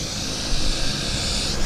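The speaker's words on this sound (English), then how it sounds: "there goes the Beech 1900" A Beech 1900 propeller aircraft at Vancouver airport produces a brief, even wash of engine roar and hiss, steady and fairly loud with no voices.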